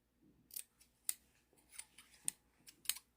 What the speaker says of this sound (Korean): 가위밥을 좀 촘촘히 주셔야 돼요.